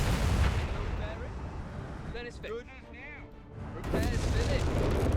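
Wespe self-propelled artillery in Company of Heroes 3 booms amid heavy battle noise, deep rumbling blasts at the start and again toward the end, with a commentator talking over the middle.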